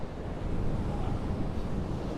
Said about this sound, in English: Can you hear these big waves?